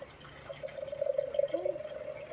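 Coffee pours from a coffee pot in a thin, steady stream with a faint liquid gurgle, fairly close and quiet, lasting about two seconds.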